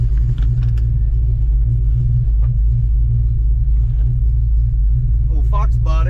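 Old Ford Fox body car with a new coil and distributor, misfire history, idling with a loud, deep, lumpy rumble that fills the clip, close by, with a brief higher rev or squeal near the end.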